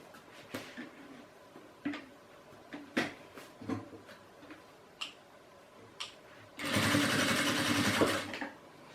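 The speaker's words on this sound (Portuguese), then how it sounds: "Aqui eu já posso costurar com um pezinho de máquina." Scattered ticks and handling clicks lead into a short, steady burst of sewing machine stitching on a maternity bag with a presser foot, close and fairly loud.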